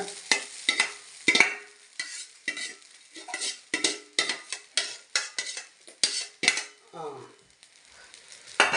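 Crumbled idli upma being stirred in a pan, a rapid run of close scraping and clinking strokes from a spoon against metal, repeated in an uneven rhythm.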